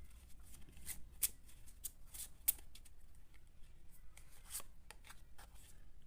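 Tarot cards shuffled by hand in quick, soft riffling and rubbing strokes with a couple of sharp flicks, close and fairly quiet, no talking.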